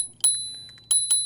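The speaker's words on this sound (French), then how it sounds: "C'est une sonnette normale." Two bright metallic dings from the bell of an OOTD SR1 electric scooter, spaced well apart over a faint low hum, close and clear.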